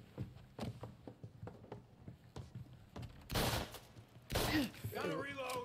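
Bursts of gunfire from a shootout in Mafia Definitive Edition on PS5: scattered sharp single shots followed by two louder, denser volleys, with voices shouting briefly among them.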